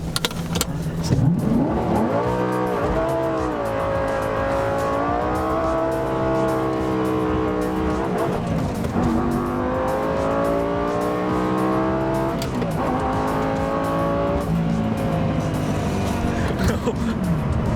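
A Lamborghini doing burnouts and donuts with traction control off, its engine revving hard in rising and falling sweeps close by, continuous and loud throughout the stretch.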